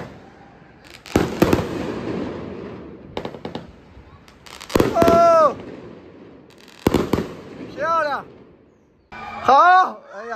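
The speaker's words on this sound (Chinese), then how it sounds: "放完烟火大家都叫好。" Fireworks go off at a seaside spot in Wanning during a holiday evening: several loud cracking bursts, some with rising whistles, come in clusters with pauses between, while people nearby talk and cheer.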